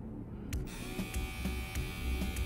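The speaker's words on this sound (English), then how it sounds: "But this is a clipper." Electric hair clipper running steadily close up, a constant buzzing hum with a thin high whine and faint rhythmic pulsing, no talking.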